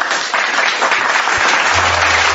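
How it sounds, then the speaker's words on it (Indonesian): An audience at a religious talk breaks into close, loud, continuous applause that holds evenly through the whole moment. "Tepuk tangan dulu"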